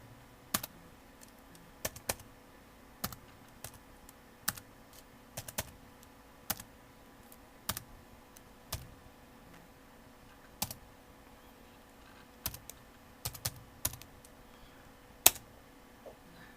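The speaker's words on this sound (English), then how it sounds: "now I will type in the ID that we want to target" Sparse keystrokes on a computer keyboard entering an ID for an RFID reader, isolated sharp clicks at irregular intervals, some in quick pairs, close and fairly quiet against a faint hum.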